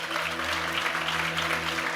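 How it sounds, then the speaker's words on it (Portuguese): Applause from a church congregation in an auditorium, a continuous wash of clapping at moderate distance over a low steady hum. "Você pode aplaudir? Aplaude ele aqui"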